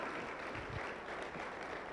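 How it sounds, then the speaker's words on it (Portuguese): A church congregation applauds together during a sermon, producing a steady, dense wash of clapping that fills the whole moment without pause. "Você pode aplaudir para ao Senhor"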